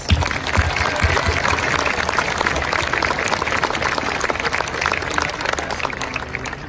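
Sustained, dense applause from a large crowd at the Foley High School 2019 graduation ceremony, a steady wash of clapping holding at an even level throughout.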